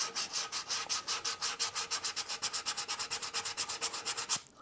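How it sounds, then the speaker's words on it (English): Steady back-and-forth sanding on wood, dozens of quick rhythmic rasping strokes close up, ending with a light knock. "Just lots and lots of sanding in my future."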